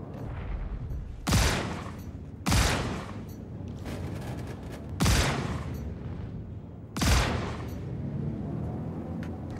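Spaceship weapons and missiles fire in a Star Citizen dogfight: four loud, sharp blasts arrive spaced a second or two apart over a constant low rumble of combat.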